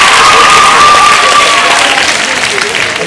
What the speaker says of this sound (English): can we hear one more round of applause?